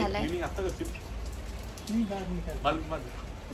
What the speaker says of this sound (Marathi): सो आता खूप सारा बाहेर पाऊस पडतोय